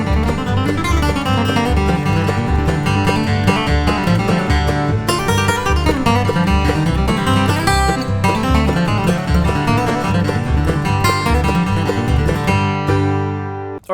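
Fast bluegrass flatpicked guitar break of Roll in My Sweet Baby's Arms at 150 bpm, dense continuous single-note runs with bass notes, loud and close with no voices.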